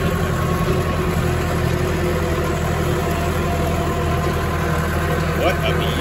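Tractor engine idling during hay baling, a steady low diesel drone with constant vibration, close and unchanging in level, with speech over it.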